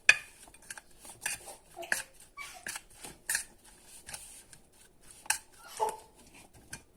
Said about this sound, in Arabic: هنقلب كويس جدا التتبيله دي مع بعض